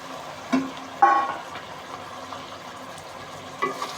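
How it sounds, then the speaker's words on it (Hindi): A garlic butter makhni-style tarka is added to chicken palak, giving a few short sizzling bursts over a soft background hiss. "ये मखनी तड़का बिल्कुल रेडी है और अब हम इसको ऐड कर देंगे अपनी डिश में"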